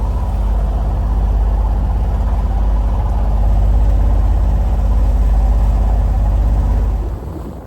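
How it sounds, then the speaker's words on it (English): A 9 m sailboat's motor drones steadily and loudly, a low rumbling engine that runs continuously before easing off slightly at the end. "I'm getting really tired of this motor. It's smelly and noisy"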